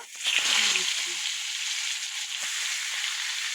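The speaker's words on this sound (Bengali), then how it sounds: "দেখো কড়া তেলও দিয়ে দিয়েছি কালো জিরে ফোড়ন দিয়ে দিলাম আর এই যে গোটা গোটা পটলগুলো" Whole pointed gourds fry in hot oil with nigella seeds, a dense, steady sizzling hiss close by, with a brief voice murmuring near the start.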